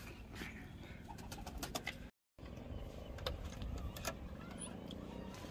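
Pigeons in a loft coo and rustle faintly against a busy background with a passing car, broken by a brief dropout partway through.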